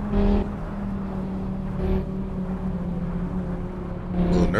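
Race car engine in the Assetto Corsa racing game, a steady droning hum with brief louder swells at the start, near two seconds and near the end.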